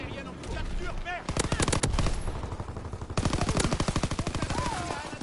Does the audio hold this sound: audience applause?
no